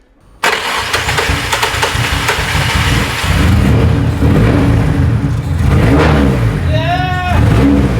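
An SR20 turbo engine in a low-budget drift car cranks and fires after a short silence, then idles loudly and revs up in surges, with a fluttering rise near the end and a voice briefly audible over it.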